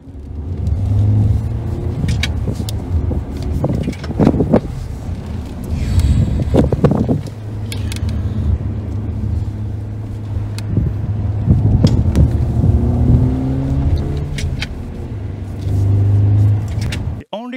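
Simulated engine sound from a Lexus electric vehicle with an emulated manual transmission, a steady low drone that rises and falls with revs, plus wind noise and occasional clunks.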